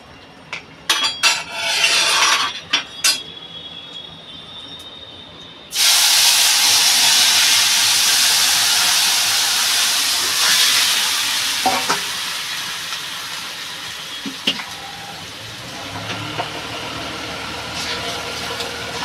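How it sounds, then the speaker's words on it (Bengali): Curry for a pumpkin-greens and tengra fish dish hits a hot pan with a sudden loud sizzle and hiss that stays strong and slowly eases, after earlier clatter of utensils; a voice speaks briefly in the background. "আমি এবার তরকারিটা ঢেলে দেবো।"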